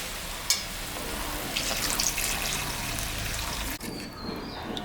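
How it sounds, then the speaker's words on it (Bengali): Water is poured into a cooking pot while a fish curry of mrigal carp is being prepared, giving a steady, close splashing rush that runs for several seconds before cutting off sharply, followed by quieter sizzling. "জল দেবো"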